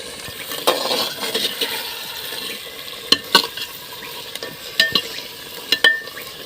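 Handi chicken being stirred in a pot, with a steady low sizzle under scattered scraping clicks of a spoon against the metal, a few sharper knocks standing out; no voices.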